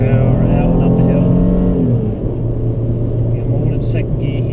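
Race car accelerating hard out of an uphill corner on a track in second gear, loud steady engine roar with rising harmonics, then a brief dip and renewed pull; a voice talks over it throughout.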